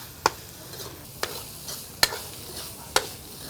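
A wood ear mushroom filling for Vietnamese rice cakes is stir-fried in fat. A soft sizzle runs under four sharp spatula scrapes and knocks against the pan, spaced about a second apart.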